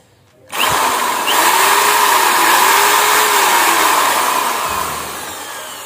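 A hand drill fitted as a grinder spins up sharply and holds a loud, steady high-pitched whine at full speed, with slight pitch wavers and a gentle drop near the end.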